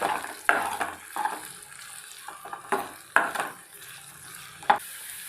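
Finely chopped onions sauté in oil in a pan, a soft sizzle broken by repeated scraping stirs of a spoon, several distinct strokes spaced across the few seconds.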